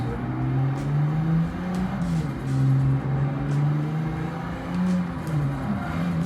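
Holden VL Commodore with an RB engine conversion driving, its engine note rising and falling in steady sweeps as it revs and shifts, loud and close with continuous road and cabin noise.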